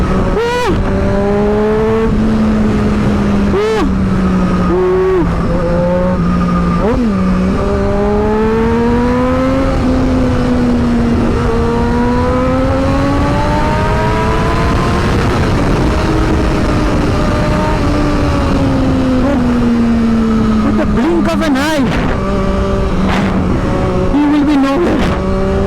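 A Triumph Daytona 675R motorcycle fitted with an SC Project exhaust revs loud and close, its engine note climbing and falling repeatedly, with sharp throttle blips near the end and no talking.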